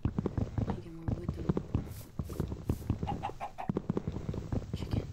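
Minecraft chicken clucking in short repeated bursts amid game sounds, with footsteps and other effects mixed in at moderate level.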